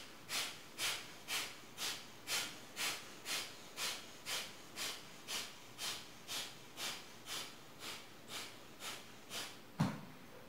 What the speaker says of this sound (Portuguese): Respiração do fogo.